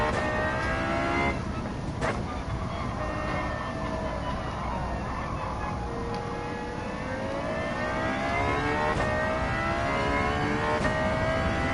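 A Lexus LFA in the racing game Gran Turismo 7 revs and drives, its engine whine rising and falling in smooth sweeps at a steady, moderate level, with faint synthetic clicking and no talk.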